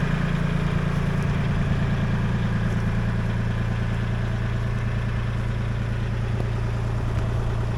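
A tractor engine moving a sawmill at about the limit of its weight, a steady loud low drone with a rhythmic mechanical clatter, continuous and close throughout.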